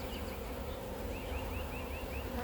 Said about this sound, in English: These bees are not happy.